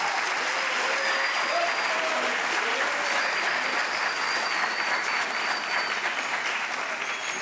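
An audience at a secondary school event in Faro gives a sustained round of applause, a dense, even clapping that holds steady throughout, with a few faint voices mixed in.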